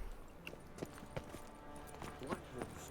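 Horse hooves clip-clop in the video game Witcher 3, a light, quick run of steps heard faintly in the background alongside other game sounds.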